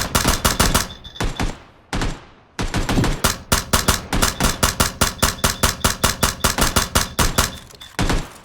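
Rapid gunfire from PlayerUnknown's Battlegrounds, loud sharp shots in short bursts and then a long steady run of evenly spaced rounds, with brief pauses between volleys and no talk.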